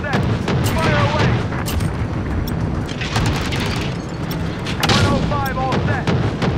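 A 105 mm artillery gun in a video game fires repeatedly, with heavy booms and sharp reports over a steady din of rumbling combat; a voice talks in the background.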